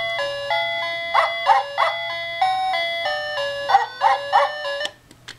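A SilverLit toy dog's nose-activated song plays as a bright electronic tune of sustained and bouncing notes, close and clear over a low hum, then stops abruptly near the end.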